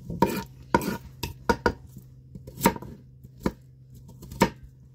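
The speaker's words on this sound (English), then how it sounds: "Same with the garlic. I'm not mincing it. I'm just going to chop it in pieces" A knife chops garlic into pieces on a cutting board in a home kitchen, about ten crisp, close, uneven thuds with short pauses between, no voices.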